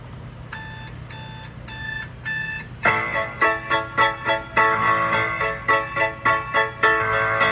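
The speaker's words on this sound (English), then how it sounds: "There's the alarm!" An alarm clock's repeated beeping worked into a recorded music track, steady bursts of bright electronic beeps that shift pattern and grow denser as the music's beat enters underneath.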